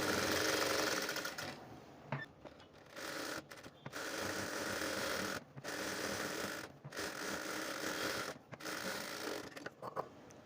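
A sewing machine stitches a blouse front to its lining in rapid whirring runs, close and steady, stopping briefly several times between bursts of stitching, with no one talking.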